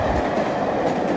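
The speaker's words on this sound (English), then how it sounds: "But look, there's a train." A train passes close by, a steady, loud broadband rumble of rail car wheels and body noise with faint clickety-clack, filling the whole moment alone.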